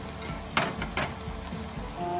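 Cumin seeds dropped into hot oil for an aloo palak methi bhujiya: a brief, close sizzle with a couple of sharper crackling bursts, fairly quiet and with no speech.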